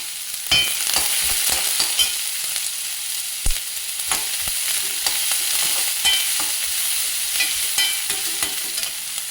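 Onion and ginger fry in a pan for atta noodles, a steady close sizzle broken by frequent spatula scrapes and clicks throughout, with no talk.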